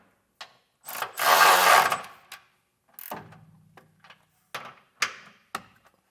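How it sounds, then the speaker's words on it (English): A hand ratchet with a 13mm socket tightens silver bolts on an air bag suspension kit for a 2024 truck. It gives a burst of ratcheting, then sharp separate clicks and clanks, up close. "I'm just going to center it and get this tightened down with a 13mm socket."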